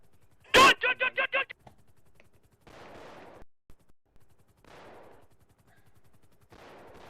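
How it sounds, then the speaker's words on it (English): Gunshots in the video game GTA San Andreas: one loud sharp shot followed by a quick burst of four or five rapid shots, then fainter scattered noise bursts. "Shots fired now."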